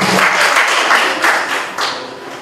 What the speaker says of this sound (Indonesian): berikan tepuk tangan sekali lagi untuk kehadiran kita